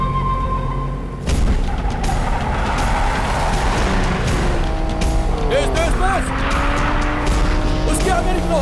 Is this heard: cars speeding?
yes